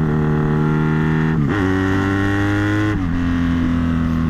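A Honda Magna motorcycle engine roars loudly and steadily, dipping twice as the revs fall and climb again on downshifts, close and continuous.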